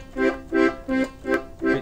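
An accordion plays a waltz bass pattern in five evenly spaced, equally loud bellows-driven chord pulses with no accented first beat, giving a flat, mechanical rhythm, close and without talking.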